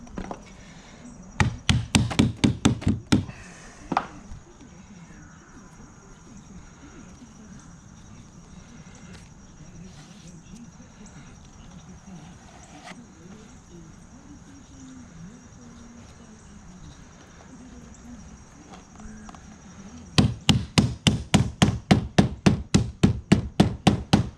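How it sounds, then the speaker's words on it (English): A white rubber hammer taps a screen cap into place on a screen room frame, with rapid bursts of sharp, evenly spaced knocks at the start and end and quiet between. "And just hammer it in place all the way around."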